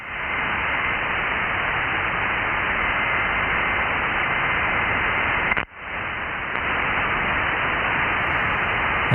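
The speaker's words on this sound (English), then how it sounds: "Mirage amplifier turning on." A Mirage B320G amplifier powering on alongside an Icom IC-9700 radio gives a steady, loud hiss of radio static. The static cuts out briefly partway through, then resumes at the same level.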